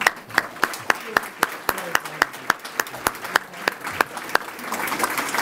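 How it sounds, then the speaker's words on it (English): Steady rhythmic clapping from an audience at a regional high school art show awards ceremony, sharp individual claps building into fuller applause toward the end. "Please join me in another big round of applause for all of our high school award winners."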